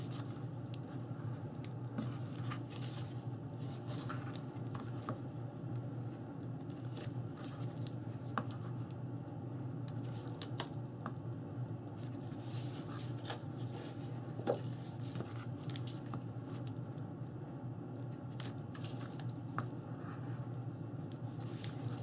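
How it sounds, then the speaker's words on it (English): A heater blower runs steadily in a room on a cool day, a continuous low hum and whoosh in the background with faint scratching and handling noises on top. "the blower that you hear running is actually the heater"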